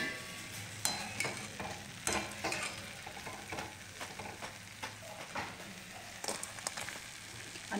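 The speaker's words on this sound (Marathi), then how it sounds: "आपण अजून एक 5 मिनिटं छान अशा सोनेरी रंगावर या कापण्या तळून घेऊया" Wheat and jaggery kapanya sweets frying in hot oil, a steady close sizzle with scattered louder pops and clinks of a utensil moving them around the pan, no voices.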